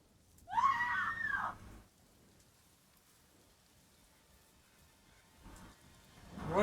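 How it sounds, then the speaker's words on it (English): A lone person screams once, a loud close cry lasting about a second, followed by quiet with faint rustling and a rising noise at the end. "one scream, that's it."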